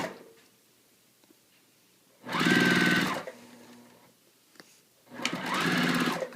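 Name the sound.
sewing machine stitching a quilt ring seam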